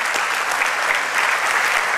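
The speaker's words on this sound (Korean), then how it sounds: "오늘부터는 저희가 박수 보내주셔도 좋을 것 같아요" A church congregation applauds during a worship service, a steady dense wash of clapping from many hands that holds evenly throughout with no pauses.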